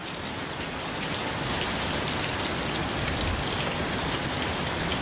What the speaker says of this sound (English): It's raining gangbusters out there.